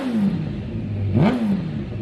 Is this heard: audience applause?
no